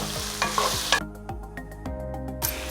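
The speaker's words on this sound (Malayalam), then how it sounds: "ഈ ഉള്ളി ഒന്ന് നന്നായിട്ടൊന്ന് ബ്രൗൺ കളർ ആവുന്ന വരെ ഒന്ന് വഴറ്റി കൊടുക്കാം." Onions being sautéed in a pan until brown for a vegetable biriyani, with a steady sizzle broken by repeated sharp scrapes and clacks of a spoon stirring close by, no voices.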